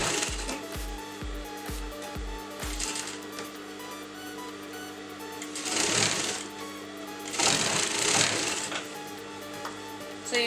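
A sewing machine runs a basting stitch through blouse lining and main fabric, starting with a quick series of rhythmic needle thumps, then pausing before louder bursts of running stitches.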